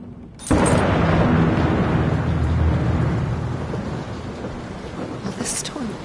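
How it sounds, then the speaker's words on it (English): A sudden loud thunderclap breaks in, followed by a long rolling rumble over steady heavy rain, in the video game Layers of Fear. "Will this storm ever run out of rain?"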